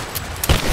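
Gunfire in the video game Rise of the Tomb Raider: a brief, loud burst of rapid shots with a heavy thump near the end, no talking.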